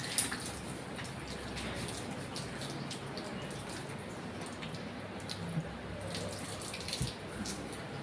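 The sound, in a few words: water drawn from a sealed rainwater tank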